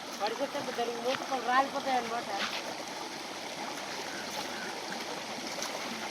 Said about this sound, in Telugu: వాగు దాటి వెళ్ళాలి మా ఊరికైతే